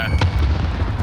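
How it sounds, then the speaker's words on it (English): A grenade goes off in a shooter video game, a short loud blast with a sharp crack near the start, then a deep rumbling low boom that fills the brief moment. "Throwing grenade."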